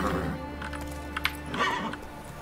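A horse in The Witcher 3: Wild Hunt whinnies and snorts nearby over a steady hum, with faint hoof clops mixed in.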